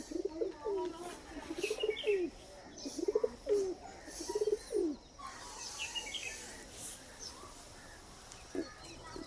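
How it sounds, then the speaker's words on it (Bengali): Domestic pigeons coo in several short, rolling phrases during the first five seconds, close and clear, with a few chirps and a quieter stretch of background noise afterwards. "আমাদের কবুতর।"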